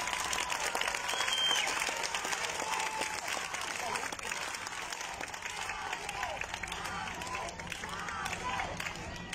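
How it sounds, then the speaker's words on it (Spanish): A crowd at a Morena campaign rally in Cuauhtémoc claps steadily in sustained applause with scattered cheers throughout. "Fuerte aplauso."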